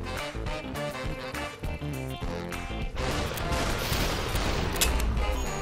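Gunfire erupts in the VR game Superhot VR, with rapid sharp shots and crashing impacts piling into a dense, loud barrage that turns into a continuous roar of smashing noise.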